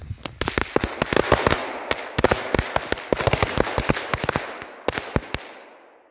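Firecrackers going off outdoors in a rapid, irregular barrage of loud sharp bangs, dozens of cracks overlapping over about six seconds before tapering off.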